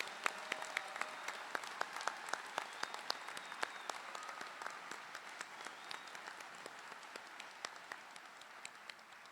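A crowd claps steadily for Masters and Specialist graduates at an FSU Panama City commencement ceremony, a sustained, even patter of many hands heard at a distance, with no voices over it.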